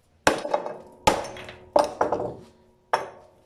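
A hammer pounds on a stick-welded cast iron piece joined with 6013 electrodes, producing five sharp metallic strikes at uneven intervals, each ringing briefly before fading.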